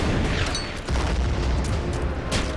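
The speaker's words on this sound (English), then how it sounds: "let's just use the artillery first" Artillery fire in the World War II strategy game Order of Battle: Sandstorm, set at Tobruk, comes as dense rumbling booms and bursts with overlapping blasts, loud and continuous, with no talking.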